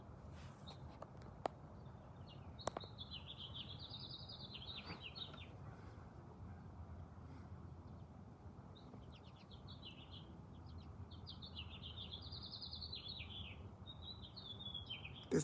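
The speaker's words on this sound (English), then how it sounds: "The sound of life of beautiful birds." Faint birdsong outdoors, a few soft warbling phrases that come and go over a steady low background hum, distant and no talk.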